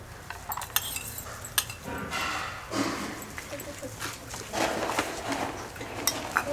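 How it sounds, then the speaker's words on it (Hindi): Spices and yogurt for potato pakora batter stirred in a bowl, with clinking spoon-against-bowl scrapes and taps in an irregular rhythm, close by, under a speaking voice and a dog barking. "अब इनको मिक्स करेंगे दही डाल के"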